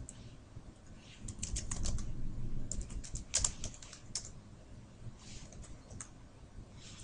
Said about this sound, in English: when I add branches using the shortcut keys